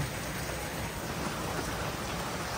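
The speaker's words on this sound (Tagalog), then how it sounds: "Sobrang lakas ng ulan." Heavy rain pours steadily over a mountainside area, a dense, continuous hiss with low rumble throughout, no voices.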